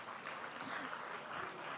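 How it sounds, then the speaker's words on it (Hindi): Faint, continuous audience applause at a poetry recital, a dense wash of clapping heard from a distance for a couple of seconds. "एक जोरदार तालियां हो जाए"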